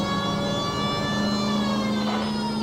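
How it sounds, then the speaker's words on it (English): Police car siren in the video game L.A. Noire wails loudly and continuously, a steady electronic tone with engine hum underneath, filling the whole stretch without pause. "putting the siren on might remove the element of surprise from the hit and run."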